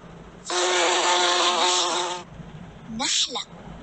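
A bee buzzes loudly and close in a steady drone of about two seconds, then a shorter buzzing burst follows after a brief gap.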